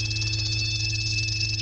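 A frog croaks in a steady, rapid rattling trill, loud and close, holding without a break for the whole short stretch.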